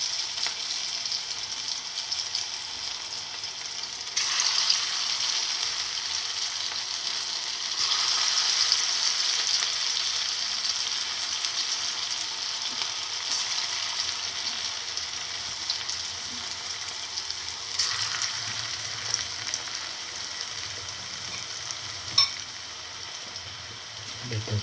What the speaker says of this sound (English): And let it fry.